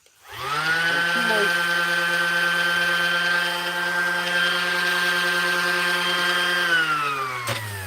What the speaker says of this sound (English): too lazy to get my knife, so I'll use a sander